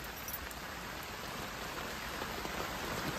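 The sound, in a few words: rain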